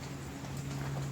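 Rain falls steadily outside a woodworking shop, a soft, even patter with a constant low hum underneath.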